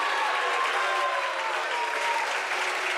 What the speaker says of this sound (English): Crowd again very vocal. They are enjoying tonight's matchup.